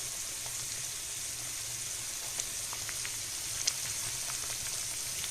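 Tomato sauce for a sausage pizza, seasoned with salt and black pepper, sizzling steadily in a pan with a constant hiss, faint bubbling and a few small pops and crackles, close and unaccompanied by talk.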